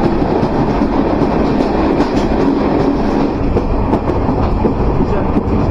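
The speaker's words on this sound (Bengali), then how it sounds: "তবে দেখে অনুমান করলাম ট্রেন 100 কিলোমিটারের বেশি গতিবেগে ছুটছে" The Maitree Express between Kolkata and Dhaka runs at over 100 km/h, giving a loud, steady rumble with constant wheel clatter and rattling that never lets up.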